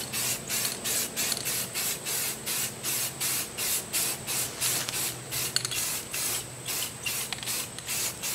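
Green camouflage paint sprayed in a rapid series of short, even misting bursts onto a hunting treestand, close and steady with brief gaps between puffs.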